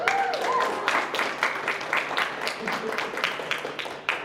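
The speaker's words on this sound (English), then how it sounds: "Give yourself a round of applause." An audience at an end-of-year writers' showcase event gives a round of applause, a sustained patter of many hands clapping, fairly soft, with voices mixed in.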